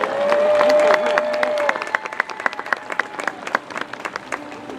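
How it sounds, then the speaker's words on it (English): Crowd applause for the orca Keet at SeaWorld San Diego, a loud dense round of clapping that thins into scattered individual claps. "You guys give him a round of applause for that."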